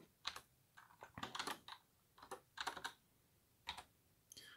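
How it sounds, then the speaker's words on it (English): Fingers typing on a USB computer keyboard in irregular bursts of quick clicky keystrokes with short pauses between, close and quiet with no talk. "I can use a USB keyboard"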